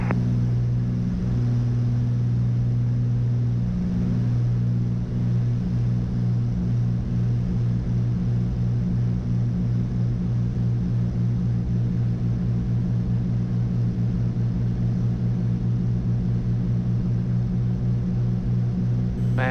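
Small propeller airplane engine droning steadily and loudly throughout a landing approach with flaps being extended at an airport traffic pattern, a constant close cabin rumble with no talk.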